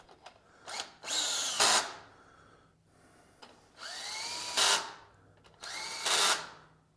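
A power tool whirs in three bursts as it turns in the engine head bolts on a John Deere 401C, each run rising in pitch and ending with a brief strained peak.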